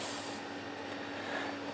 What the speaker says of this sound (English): A tiny bit of soda water to top.